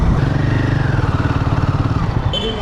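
A motorcycle engine runs steadily on a highway ride, a loud, close, pulsing drone with a regular rhythmic throb lasting the whole stretch.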